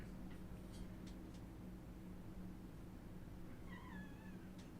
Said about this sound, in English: There he goes meowing again